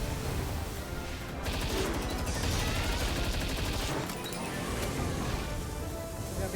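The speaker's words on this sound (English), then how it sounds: "Oh no, he's firing his laser!" Rapid crackling bursts of laser fire from an enemy in Palworld come in dense stuttering volleys, loud and continuous with short pauses between strings of shots, under faint game noise.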